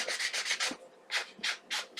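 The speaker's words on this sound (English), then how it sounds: "I use a lot of different sanding blocks" Brisk back-and-forth sanding strokes, close and rhythmic: a quick run of scrapes, a short pause, then several more.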